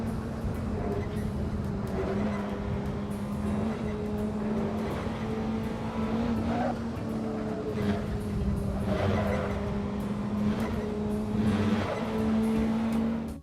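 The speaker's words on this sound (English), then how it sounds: "it's the sound that the curbing makes" A race car in the Assetto Corsa racing game runs over curbing with a modded curb sound: a steady, loud engine drone with a rough, rumbling texture that swells and eases throughout, with no voices.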